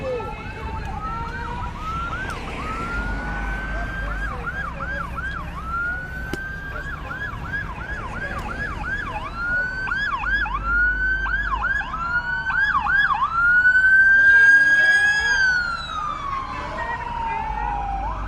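An emergency vehicle siren wails through a street march in Louisville, Kentucky, its rising and falling tone repeating and swelling louder over the crowd's background noise before fading off.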